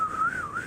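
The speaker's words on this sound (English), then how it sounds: "That sounds like a hurricane whistle." A single short whistle, a wavering high tone lasting under a second, close and clear.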